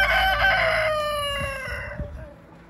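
A rooster crows loud and close over a flock of chickens on a farm, the long harmonic call held and then falling away, with soft clucking and rustling from the birds around it.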